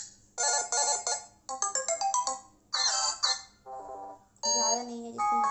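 A melodic Motorola Moto g30 alarm tone plays in short bursts of bright electronic notes with brief pauses between phrases, clear and close, with no talking.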